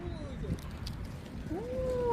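A cat gives one drawn-out, rising meow near the end, faint against a background hum and murmur.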